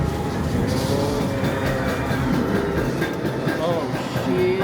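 A ride train on Brighton Palace Pier rumbles and rattles along the tracks in a steady, close clatter, with voices talking over the noise.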